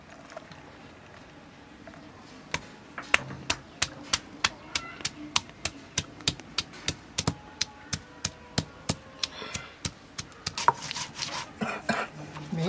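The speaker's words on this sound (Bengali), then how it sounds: "আদা রসুন বেটে নেব একসঙ্গে।" Ginger and garlic being pounded together into paste, a rapid, evenly spaced run of sharp close thuds that goes on for several seconds under a quiet background.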